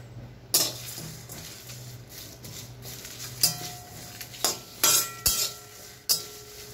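Whole spices and a bay leaf tossed into a hot pan for a Bengali spice mix, with a low sizzle under scattered sharp metallic clinks and scrapes of a spoon stirring against the pan.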